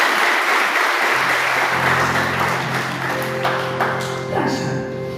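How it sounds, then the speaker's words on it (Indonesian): A church congregation applauding for Jesus: a dense, steady wash of clapping from many hands fills the room, with a few sustained musical tones entering near the end. "Bisa berikan tepuk tangan buat Tuhan Yesus."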